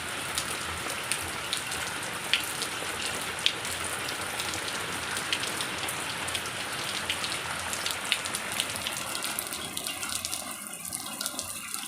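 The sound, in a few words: heavy rain falling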